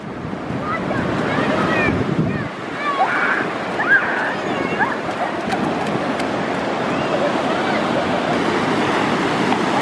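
Muddy ocean waves washing steadily on a beach with strong wind buffeting the microphone, while voices talk and a child calls out over the surf.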